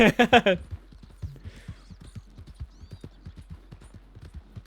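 Horse hooves clip-clopping at a steady walking pace in Red Dead Online, even distinct steps close by, after a short burst of a whistle-like call at the start.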